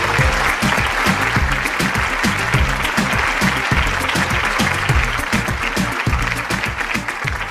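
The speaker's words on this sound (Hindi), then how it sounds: "मैं फिर से जरार के लिए तालियां" Sustained, dense audience applause fills a kids' live TV game show studio in Pakistan, a steady roar of many hands clapping at close range with no voices on top.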